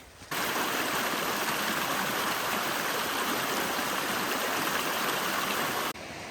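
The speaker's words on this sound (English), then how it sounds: "This is the Resurrection River that we've been going by." The Resurrection River rushes beside a forest hiking trail, a steady broadband roar of flowing water heard up close and without pause, cutting off abruptly near the end.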